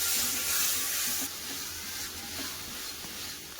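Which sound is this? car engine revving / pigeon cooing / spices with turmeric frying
spices with turmeric frying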